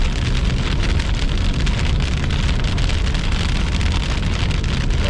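Steady, loud rain falls during a slow-moving June thunderstorm, a dense continuous hiss that stays even throughout with no distinct thunderclap and no voices.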